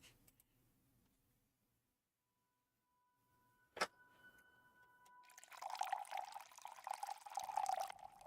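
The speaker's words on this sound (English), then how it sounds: "Some loud-ass water pouring there, Poe." Loud water pouring after a quiet stretch with a single sharp tick, a dense steady gush that swells in and runs on to the end.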